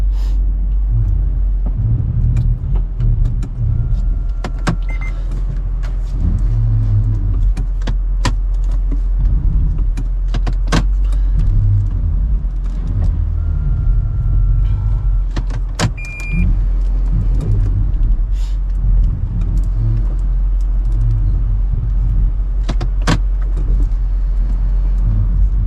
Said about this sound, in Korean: 시동을 끈 상태에서 다시 한번 제가 시동을 켜보도록 하겠습니다